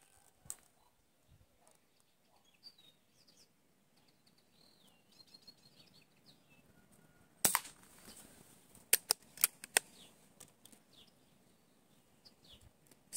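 A Blow H-01 air gun fires Hornet pellets at about 7 meters, a quick series of sharp cracks and pops mid-clip over a quiet outdoor background with faint birdsong.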